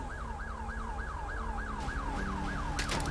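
Police car siren in a law-enforcement roleplay game, a loud, close, continuous wail rising and falling in a rapid regular cycle over engine rumble, joined by a burst of higher chirps at the end.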